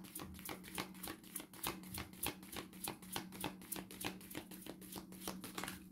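Tarot cards being shuffled during a card reading: a steady, rapid run of crisp riffling taps and flutters lasting the whole stretch, close to the microphone with no talking.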